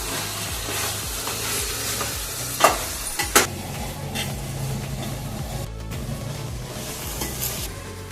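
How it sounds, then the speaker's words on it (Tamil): Eggplant sautés in a hot pan for a Tamil dry fish curry, frying with a steady hiss and crackle, stirred with a few sharp scraping clacks of a spoon against the pan. "இப்போ நம்ம கத்திரிக்காய் பார்ப்போம் வதக்கணும்"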